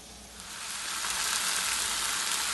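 Steak sizzling steadily in a hot pan, a loud, continuous hiss of frying fat that swells slightly at the start and then holds even, with no voices.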